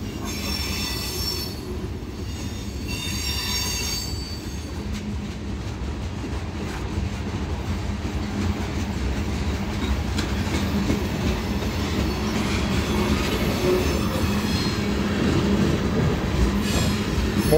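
A long mixed manifest freight train with mid-train DPUs and a caboose rolls past, its wheels squealing loudly and steadily against the rails over a continuous rumble and faint clickety-clack.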